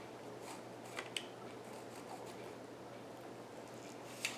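Scissors trimming paper for a handmade spell book, with faint, close snips at a few separate moments over a quiet background hum.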